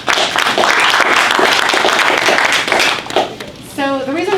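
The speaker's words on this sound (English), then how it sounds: "Give them a big round of applause" An indoor audience at a startup night event claps loudly and steadily for a few seconds, then the applause fades and a voice begins speaking at the end.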